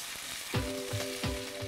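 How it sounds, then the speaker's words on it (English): Chicken pieces for prawn and chicken jambalaya fry in a pan with a steady, close sizzle, punctuated by a few soft rhythmic knocks from stirring. "And continue to fry this until the chicken pieces are brown all over."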